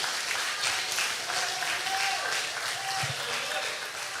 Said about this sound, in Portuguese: É isso, você pode aplaudir melhor.